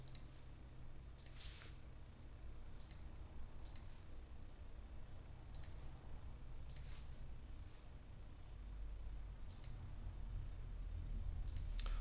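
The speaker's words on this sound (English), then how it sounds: "So I'm just repeatedly clicking with this corner thing" Faint, sharp computer mouse clicks come in irregular singles and pairs, a dozen or so spread across a steady background hiss while modeling in SolidWorks; no talking.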